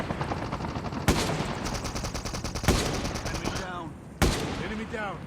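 Sniper rifle shots in Call of Duty Mobile battle royale ring out three times as sharp, loud cracks spaced a second or two apart, each followed by a ringing tail and the clatter of the bolt cycling, with background game noise.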